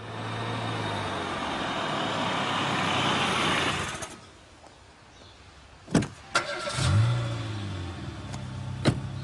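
A chauffeur-driven car pulling out, starting with a loud steady engine and road rumble that cuts off, followed by quieter sharp clicks and clunks and a brief low engine swell.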